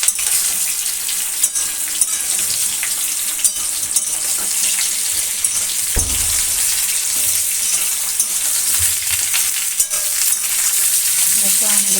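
Mango pieces for a sweet, sour and spicy pickle fry in a pan, giving a loud, continuous close-up sizzle with occasional stirring knocks and scrapes. Nobody speaks.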